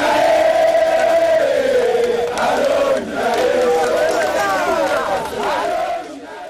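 A large crowd of Congolese supporters at Stade Tata Raphaël chants and cheers for President Félix Tshisekedi, many voices rising and falling in loud sustained waves, close and dense throughout.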